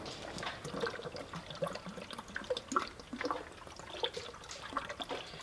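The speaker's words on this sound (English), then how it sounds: "Now, as we're pouring this into the oil," AT-205 Re-Seal being poured into a car engine's oil fill opening, a soft continuous trickle and dribble of liquid at close range for several seconds, with no talking.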